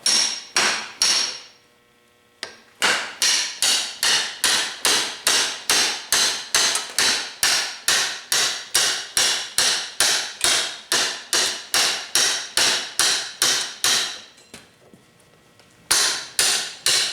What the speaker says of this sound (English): I'm gonna keep hammering it though.